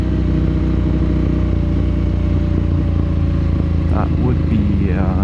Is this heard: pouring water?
no